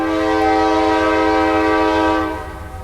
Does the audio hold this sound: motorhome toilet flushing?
no